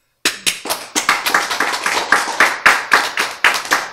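An audience at a church lecture on the Ten Commandments claws out sharp, rhythmic group clapping in a steady beat of distinct, loud claps close by, running without pause for about four seconds.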